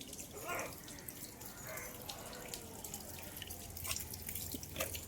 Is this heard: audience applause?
no